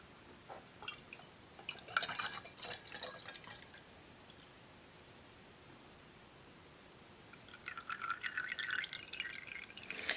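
Rendered animal fat poured from a pot into a glass canning jar, soft liquid trickling and dripping in two short bursts separated by a quiet pause, close and faint.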